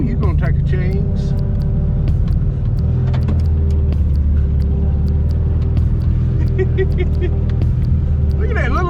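A 1976 Volkswagen Beetle fitted with a 1940 Ford body kit rolls downhill, its engine rumbling steadily and close throughout, with people talking over the drive.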